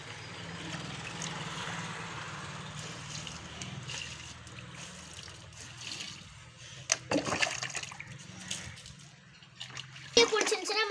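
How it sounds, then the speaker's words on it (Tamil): Water poured from a container onto plants in a home garden, a steady splashing, trickling flow close by with a few louder gushes near the end. "தண்ணி ஊற்றுறத பாருங்கள்."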